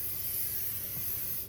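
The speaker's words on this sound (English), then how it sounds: "Spray it down with a little more cooking oil." Cooking oil sprays from a can onto a pan for pancakes, a short, fairly quiet steady hiss lasting about a second and a half.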